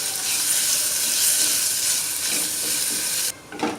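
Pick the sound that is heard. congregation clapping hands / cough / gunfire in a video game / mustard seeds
mustard seeds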